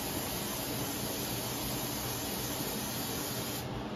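Aerosol stiffener sprayed onto a cowboy hat, a steady close hiss running unbroken for the whole stretch with no talk.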